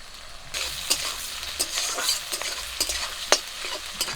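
Chopped onion and slit green chillies fry in a pan, giving a steady close sizzle broken by sharp clicks and scrapes of stirring at irregular intervals, with no talking.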